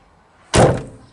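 A camper van door in a self-build conversion swings shut with a single loud, solid slam that fades out quickly, heard on its own.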